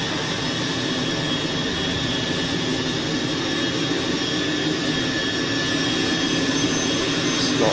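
Steady jet engine roar from a Cessna Citation Mustang C510 taxiing in Microsoft Flight Simulator, a continuous broadband whine and rumble that holds at a constant loud level throughout with no voices.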